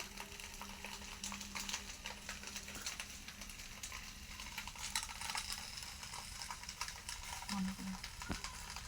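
Fish wrapped in leaves fries in a wok over a low gas flame, giving a soft, steady sizzle and faint crackle at low volume.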